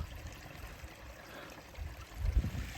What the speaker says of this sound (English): it's a very small body of water that's coming down